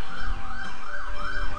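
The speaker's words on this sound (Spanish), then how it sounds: "Tipo de ambulancia." An ambulance-style siren from the Tales of Symphonia video game wails in steady rising-and-falling cycles, loud and continuous across the short stretch with no voices over it.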